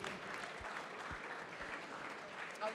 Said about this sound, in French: on peut tous vous applaudir.